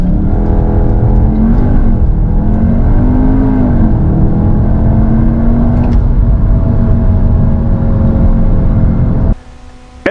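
Cupra Formentor 2.0 TSI 310 hp (2022) launching at full throttle, a loud sustained engine roar climbing in pitch through several gear changes, heard from inside the car, ending abruptly near the close.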